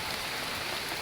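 Heavy rain hisses in a steady, dense roar with no pauses, loud and close, during a downpour in the Philippines.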